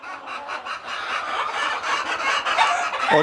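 Desi chickens and a rooster cluck and mutter continuously at close range on a poultry farm, overlapping calls with a busy, scratchy background.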